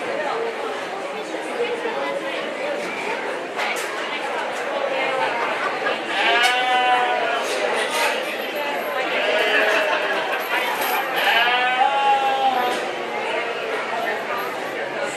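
Sheep bleat several times in a show ring at a county fair, amid a steady crowd chatter and announcer-style talk, with a couple of bleats standing out clearly over the busy background.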